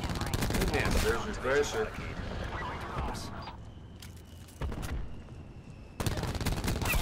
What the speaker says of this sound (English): Ice is wearing him out with that shotgun, and I've got that Spitfire on